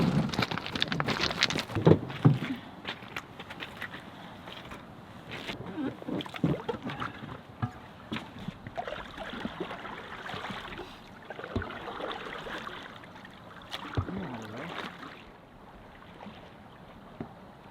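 An inflatable boat, a Stryker Hunter Jet 420, is canoe-paddled across calm water toward a dock, giving soft, irregular splashes and dribbles close by, louder at the start and quieter later, with no talking.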